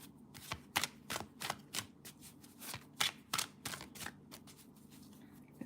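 Tarot cards being shuffled by hand, a quiet, close series of crisp riffling bursts in an uneven rhythm, about a dozen quick flutters, with no talking.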